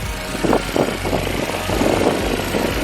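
The Ecotec engine of a 2019 GMC Terrain SLE runs in its engine bay with a steady, close, low idle hum, a light vibration and some faint rustling noises over the top.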